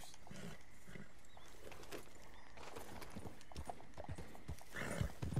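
Horse hooves clop in Red Dead Redemption 2, an irregular run of soft thuds. A brief whinny and other game sounds sit in the mix, all fairly faint.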